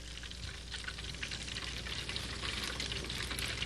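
Fried fish drains after frying, giving a soft crackling, hissing patter like light rain that holds steady and quiet for a few seconds with no talk.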